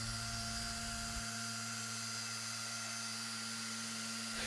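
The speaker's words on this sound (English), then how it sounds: "you could switch over to a dual action polisher to finish between third and fourth speed setting" A dual action polisher works across car paint on a Sierra pickup, a steady, fairly quiet high-pitched motor whine that runs without a break, with a low hum that drops away after the first second.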